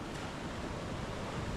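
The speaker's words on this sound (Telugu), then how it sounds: "ఇవి మళ్ళీ వస్తున్నాయి చూడు అలలు" Sea waves wash against the rocks at Kiama Blowhole on the coast, a brief, even roar of surf and spray with no distinct breaks, heard alone with no voices.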